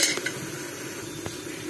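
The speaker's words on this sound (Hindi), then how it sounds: "हरी मिर्ची को भी 2 मिनट फ्राई करूंगी।" Slit green chillies fry in a pot for yakhni pulao, a soft sizzling bed under a couple of sharp clinks of a spoon stirring against the metal.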